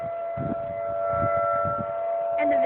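Civil defense tornado siren sounding during a winter test in January, a steady wailing tone held throughout, moderately loud, with wind or handling noise underneath.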